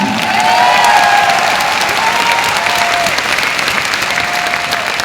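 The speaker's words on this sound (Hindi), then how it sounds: "आपके लिए ये आत्मा से दिल से ताली मार रहे हैं" A large audience at a Silver Jubilee corporate event in a hall keeps up loud, steady applause, a dense, even patter of many hands that rolls on without a break.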